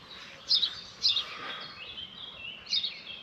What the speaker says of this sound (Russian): Хорошо здесь птички поют.